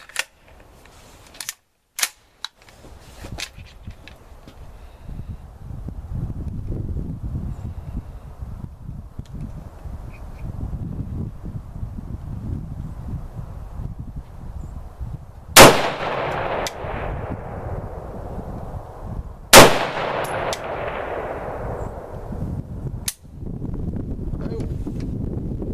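An AR15 rifle fed from a Thermold magazine fires two loud, sharp outdoor shots about four seconds apart, each ringing out in a decaying echo, with wind rumble on the microphone and scattered handling clicks.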